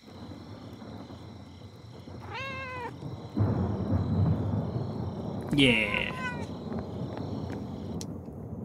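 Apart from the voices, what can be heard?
cat meowing while being petted in a video game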